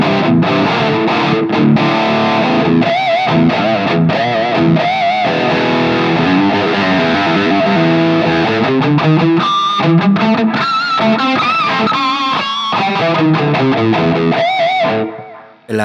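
A Fender Stratocaster electric guitar played through distortion with a humbucker-style tone, a loud continuous run of driven notes and chords with sustained ringing lines, alone without talking, cutting off abruptly at the end.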